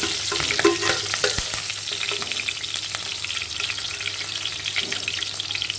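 Green chillies frying in hot oil in a pan for a fish curry, a steady close sizzle with occasional sharper crackles and spits, no talking.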